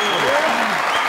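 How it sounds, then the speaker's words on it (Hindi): Applause from a studio audience on a comedy show, loud and continuous through a short stretch, mixed with a voice speaking over it. "इनके लिए तालियां।"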